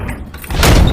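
A door slams shut with a heavy thud at a chocolate factory entrance, loud and close, after a brief quieter lead-in.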